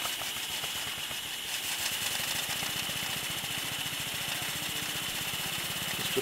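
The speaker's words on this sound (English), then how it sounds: "Just warming the engine up, get steam to it." A small steam bicycle engine warming up runs steadily with a fast, even chugging rattle and a hissing background, constant throughout with no talking.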